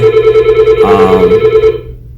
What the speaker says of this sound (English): and now my phone is ringing